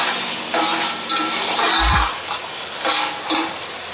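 Steady sizzling of food frying in a pan while cooking Arabian mutton kabsa, a continuous bright hiss with a brief low thump midway, no voices.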